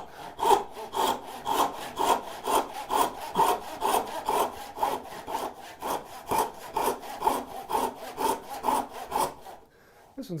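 A hand saw cuts through wood for a bridle joint in steady back-and-forth strokes, close and rhythmic, with a short pause before the sawing stops.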